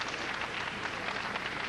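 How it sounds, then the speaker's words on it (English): A boxing crowd in a large arena claps steadily for heavyweight Tommy Morrison at Tokyo Bay NK Hall in 1996, before his fight with Marcus Rhode: a dense, even wash of applause that fills the whole brief moment. "He gets a hand from the crowd."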